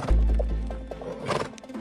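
A hungry horse nibbling at a grass poster on a vehicle whinnies loudly up close, with a few hoof clops.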